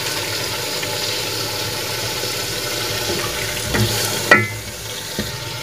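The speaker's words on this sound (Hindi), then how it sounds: "आप देख सकते हैं मैंने इसमें चिकन ऐड कर दिया है और अब मैं इसकी अच्छी तरह से भुनाई करूंगी" About a kilo of chicken frying in a pot for chicken aloo gosht shorba, a steady loud sizzle with a low hum underneath, rising briefly with a stirring scrape and a clank toward the end; no talking.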